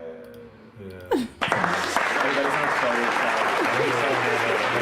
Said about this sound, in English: Round of applause for my guys.